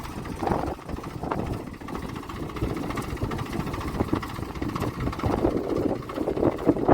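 A large tractor engine runs with a steady low, rough chug and slight surges, fairly close, alone without voices.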